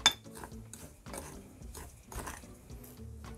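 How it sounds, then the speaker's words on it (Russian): Salt and sugar being stirred together for curing trout, heard as a soft, close, rhythmic scraping and clinking of a utensil against a bowl, a few quiet strokes in a row. "Перемешиваю соль и сахар"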